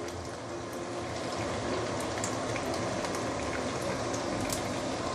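Eggs dropped into hot oil for egg fried rice give a steady, dense crackling sizzle, close and continuous from start to finish with no voices.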